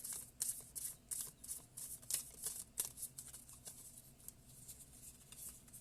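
A tarot deck is shuffled by hand during a reading, a close, quiet run of rapid crisp riffling bursts and soft card slaps in an uneven rhythm, with no talking.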